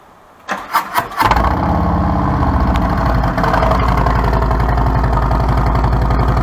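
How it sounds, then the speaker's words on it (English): A 2020 Harley-Davidson touring motorcycle with 4.5-inch exhausts and zombie baffles fires up from cold after a few quick cranks, then settles into a loud, steady, lumpy idle around 1200–1400 RPM, close to the bikes. "Again, that's a cold start, right about 1200 RPM, 1400."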